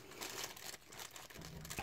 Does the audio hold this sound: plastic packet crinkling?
yes